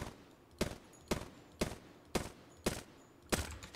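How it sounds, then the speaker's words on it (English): Single SMG shots fired one at a time at separate training targets in Apex Legends, six sharp reports spaced roughly half a second apart, loud and close with short decays between them. "Usually do it with an SMG and I'll just go between the targets, shooting one bullet into each one."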